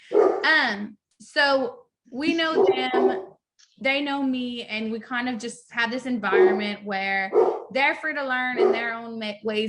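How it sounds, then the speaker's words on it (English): A dog barks repeatedly in the background of a home while someone talks continuously over it. "excuse my dog barking"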